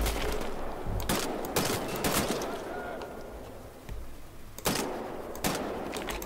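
Gunfire from Wolfenstein: The New Order: sharp, loud bursts of automatic shots in clusters with brief gaps between volleys, mixed in with other game noise.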